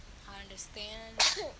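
One sharp, loud sneeze bursts out close by during a talk about coping with loss, just after a person speaks a few words.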